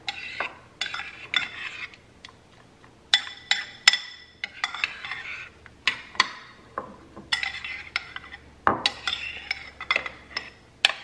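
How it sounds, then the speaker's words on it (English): A spoon stirs a chia seed mixture in a bowl, giving repeated quick scraping clinks against the sides in uneven bursts, close and fairly quiet. "Just mix that all in."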